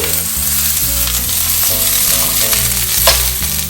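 Seasoned beans mixed in a frying pan, with a steady sizzle and occasional stirring scrapes running under loud continuous background music.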